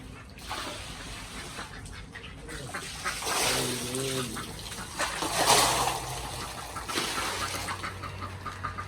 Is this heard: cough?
no